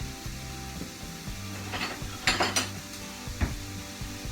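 Sausage sizzles in a cast iron pan under a low steady hum, with a few metallic clinks and utensil scrapes against the pan standing out.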